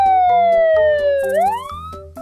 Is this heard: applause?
no